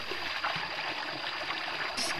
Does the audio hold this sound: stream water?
yes